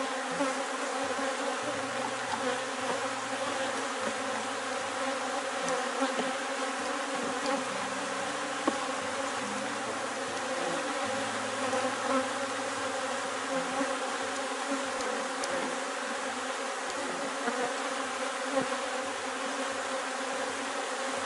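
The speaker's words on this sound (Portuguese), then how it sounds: "Então vamos organizar o enxame." A honeybee swarm hums steadily around an open hive at a small apiary, a continuous close buzzing drone with individual bees passing near, no talk over it.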